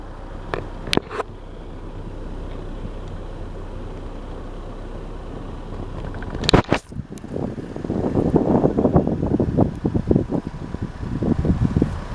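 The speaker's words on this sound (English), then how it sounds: "Quite windy." Wind buffeting a microphone outdoors in Darlington, United Kingdom, in gusty rumbles, with sharp clicks and handling knocks, growing rougher toward the end.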